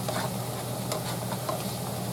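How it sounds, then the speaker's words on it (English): Refried beans with garlic powder, minced onion and bouillon liquid simmer in a pan over low heat, giving a soft, steady, even sizzle with no talking. "Now I'm just going to simmer that a little bit."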